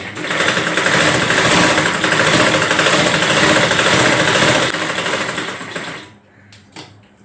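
Sewing machine stitching the seams of a small girl's frock, a steady loud mechanical whir running continuously for about six seconds before stopping, followed by brief faint handling clicks.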